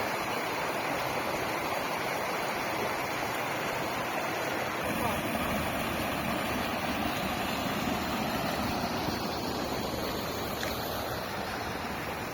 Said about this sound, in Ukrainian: Шум потічка просто неймовірний.